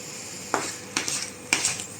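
A spoon stirs a vegan potato patty mixture in a pot for homemade burgers, giving four sharp utensil scrapes and clinks spaced about half a second apart over a quiet room.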